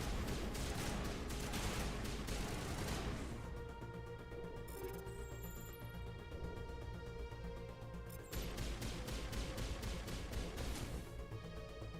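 Gunfire in the game Mass Effect (Legendary Edition, first game): rapid, loud bursts of weapon fire crackle for several seconds, fall away to a droning hum with a brief clatter, then return in a second sustained volley.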